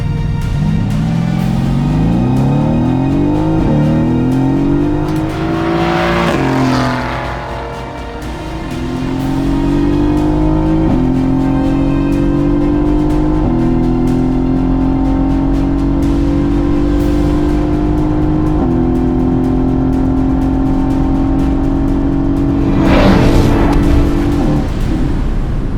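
A Mercedes-AMG GT S accelerating hard at high speed, its loud engine note climbing through gear after gear with brief dips at each shift, heard close from inside the car over a roaring wind.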